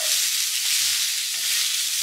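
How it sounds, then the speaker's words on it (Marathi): Onion frying in oil for masala prawns gives a steady, dense sizzle, close and continuous with no talk. "तुम्ही बघू शकता आपला कांदा हा भाजला जात आहे।"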